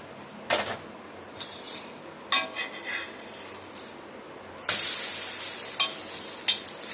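A vegetable egg pancake with carrot and potato sizzles in a pan over a slow flame, with steady close frying hiss, utensil scrapes and clinks, and a louder surge of sizzling partway through.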